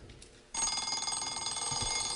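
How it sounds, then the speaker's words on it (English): A shrill mechanical bell rings continuously after a short quiet start, steady and loud, with a metallic ringing tone like an old alarm clock. "of course it's the sound of the alarm clock"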